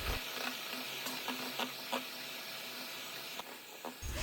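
Six eggs beaten in a bowl for a chocolate cake, a steady rapid whisking patter with small scraping knocks against the bowl, close and alone without talk.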